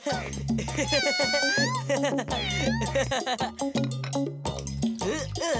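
Cat-like meows and wavering mewling calls repeat loudly and close, mixed with musical tones, sounding more like an animated or voiced imitation than a real cat.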